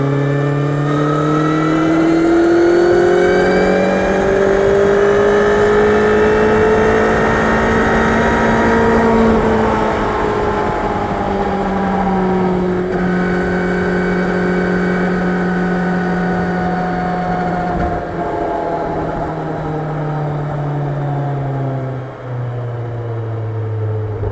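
A BMW G 310 motorcycle engine revving during a ride, a loud, steady engine drone that rises and falls in pitch over about twenty seconds, close to the microphone with no talk.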